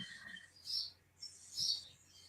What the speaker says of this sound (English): you can hear birds singing because there's millions of birds outside